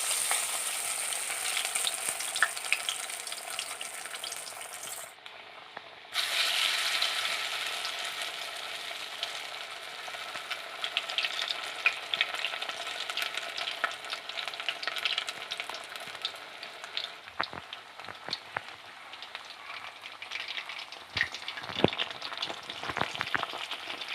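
Parippu vada, lentil fritters, fry in hot oil in a pan with a steady, dense sizzle that runs throughout, joined near the end by scattered sharp crackles and pops, close and with no talking.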